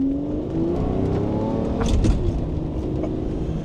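A 2007 Lamborghini Murcielago LP640 accelerates with a steady, loud engine note that rises slightly in pitch, briefly swelling in the middle of the short stretch.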